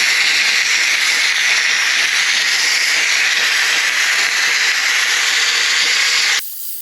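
A steamer aimed at a Land Rover Discovery's purple window tint gives off a loud, steady, close hiss that runs without a break and then cuts off abruptly near the end.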